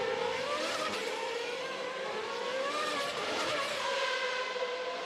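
AutoGP race cars at the 2014 Marrakech street circuit roar continuously as they brake toward the pit lane, a loud, dense engine drone with shifting pitch and no pauses throughout.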